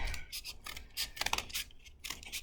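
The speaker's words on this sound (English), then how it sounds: "Grown-up scissors are gonna make this job a lot easier" Scissors snip repeatedly in short, crisp bursts through paper for a snowflake craft, a quiet, close rhythmic cutting with brief pauses between strokes.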